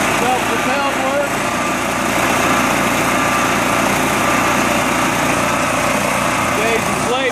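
A brand new Snapper self-propelled lawn mower engine runs at a steady, loud, buzzing drone, close by and unbroken for the whole stretch, with a person talking over it.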